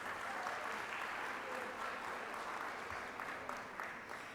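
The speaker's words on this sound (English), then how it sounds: "Please give our sponsors a big round of applause" Steady applause from a civic state-of-the-city audience honouring sponsors, a broad, even wash of many hands clapping at a distance without pause, fairly quiet throughout.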